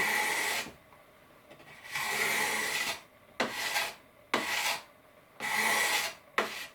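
Rhythmic rasping strokes of sandpaper on wood while building a model aircraft, five long back-and-forth passes with short pauses between, close and fairly steady.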